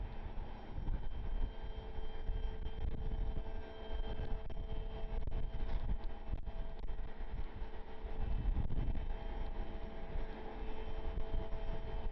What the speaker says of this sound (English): Got a really pretty Gulfstream heading out.